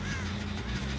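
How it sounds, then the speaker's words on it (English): A crow caws during a Dead by Daylight match, a steady, fairly loud call that sits over dense in-game ambient noise for about a second. "I think that's the bird I scared."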